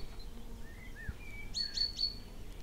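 Small birds chirp outdoors, a few short high tweets clustered near the end, fairly faint over soft background hiss, with no talking.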